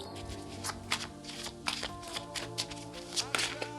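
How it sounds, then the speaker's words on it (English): Tarot cards being shuffled up close, a soft papery riffling with light taps, steady and quiet against a faint background hum. "I'm just shuffling these cards."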